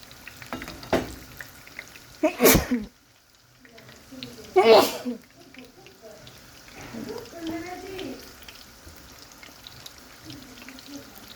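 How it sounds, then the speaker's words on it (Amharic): Sambusa frying in hot oil in a pan, a soft crackling sizzle under a voice, with a few sharper clatters of utensils. "እንደዚህ እየጠበስኩ ነው እላችኋለሁ"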